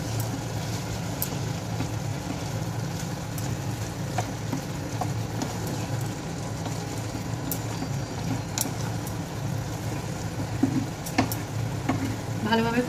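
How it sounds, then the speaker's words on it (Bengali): Chicken frying with spices and salt in a pan for a raw mango chicken curry, a steady close sizzle and crackle running throughout with occasional spoon scrapes, no talk. "এবার এটাকে একটু ভালোভাবে কষিয়ে নেব সমস্ত কিছু দিয়ে।"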